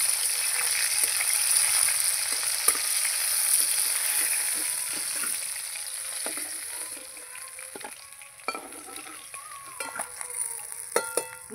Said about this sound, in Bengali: মাছ সব আমার ভাজা হয়ে গেল।